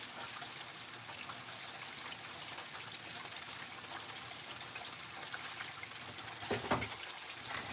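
Ice water being poured into a container in a home kitchen, a steady, soft splashing trickle that runs on without pause and grows briefly louder near the end, heard alone.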